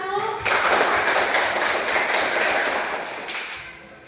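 A group of children claps together for another group in a classroom religion lesson, starting abruptly after a brief voice and continuing as a dense, loud burst of hand claps that fades gradually.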